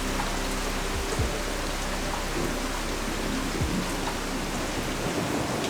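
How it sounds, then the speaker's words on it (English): Steady rain hisses evenly throughout, a dense continuous patter with a faint low rumble underneath. "the sound of the rain, which is very calming, very soothing"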